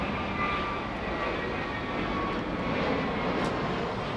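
An airliner departs at Los Angeles International Airport, its engine roar a steady, broadband rumble heard from a distance, constant in level throughout with no talk.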